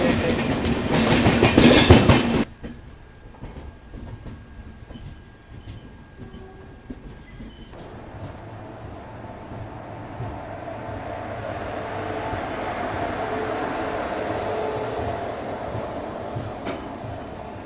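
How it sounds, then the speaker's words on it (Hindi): The Yesvantpur Express, bound from Yesvantpur to MGR Central, passes on the crossing track in India: a loud rushing burst at first, then a steady rumbling train roar that slowly builds, with no talk. "क्रॉस हो रही है दोस्तों यशवंतपुर से चल के MGR सेंटर को जाने वाली यशवंतपुर एक्सप्रेस।"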